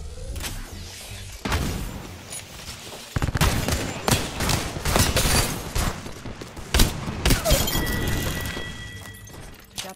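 Gunfire in Apex Legends, loud and close: rapid bursts of automatic shots crackling one after another, with sharp impacts, shield-break clinks and pauses between volleys.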